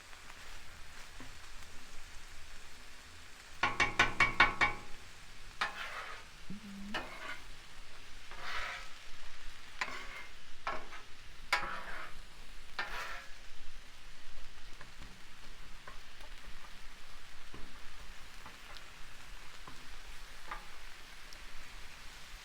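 Fried rice with vegetables frying on a hot Blackstone griddle, a steady crackling sizzle with bursts of scraping and stirring throughout, no voices.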